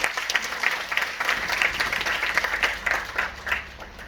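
An audience at a national seminar on Shri Guru Tegh Bahadur Ji in Gurdaspur applauds a speaker, dense, steady clapping that fills the room for several seconds, loud and close, with some faint murmuring underneath.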